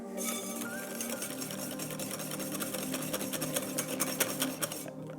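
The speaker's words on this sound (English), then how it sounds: "Just whisk it one last time to get all that through." A whisk beats Baileys cream in a bowl for a Christmas champagne jelly trifle, making a fast, even, rapid ticking rhythm close by that runs continuously.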